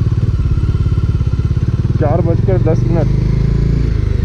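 A Bajaj Dominar 400 motorcycle on a long highway ride gives a loud, close, pulsing engine drone throughout, with someone briefly speaking over it midway.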